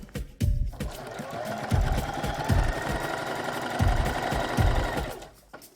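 Sewing machine stitching a side seam on folded plaid fabric, a continuous mechanical whir with rhythmic thumping pulses running steadily throughout, close and fairly loud.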